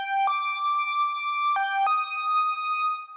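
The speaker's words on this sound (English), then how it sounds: "Found this lead sound on the Prophet 6" A Prophet 6 synthesizer lead plays sustained, buzzy tones rich in overtones, stepping between a few held notes with sharp attacks, clear and solo.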